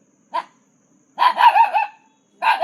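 A small puppy barks outdoors after dark: one short yap, then a quick run of four or five close barks and another burst, loud and near with silence between.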